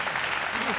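A pro wrestling crowd in Sendai claps densely and loudly through a brief moment while a commentator talks over it.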